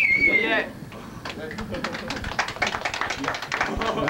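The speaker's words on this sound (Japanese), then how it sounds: "別に拍手なんかいいんですよ。" Crowd applause at a live concert, a dense, steady patter of clapping that swells and continues for several seconds after a short bright tone at the start.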